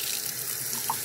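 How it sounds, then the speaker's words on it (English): Tap water runs steadily into a spray bottle at a kitchen sink, a close, continuous hiss and splash lasting about a second. "I'm just going to fill this up with water"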